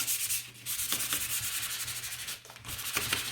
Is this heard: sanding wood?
yes